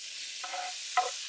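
Bacon sizzles on a hot Blackstone griddle, a steady high crackling hiss with a couple of brief scraping stirs, close and clear with no talking.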